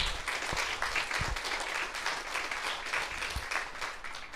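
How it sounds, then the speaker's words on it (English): A modest crowd at a Republican meeting gives a round of applause, a soft, fairly distant wash of clapping that holds steady for a few seconds before thinning. "that deserves a round of applause"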